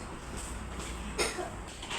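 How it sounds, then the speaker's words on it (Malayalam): One short cough from a person indoors, a single sharp burst against a low steady background hum. "ചുമയാണല്ലോ."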